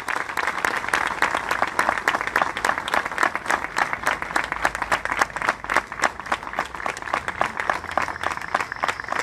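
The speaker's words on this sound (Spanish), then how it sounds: "Fuerte el aplauso, por favor." A crowd at an anniversary ceremony for Rafaela's Guardia Urbana claps loudly and rhythmically for about nine seconds, the claps falling into a fast, steady, nearly unified beat.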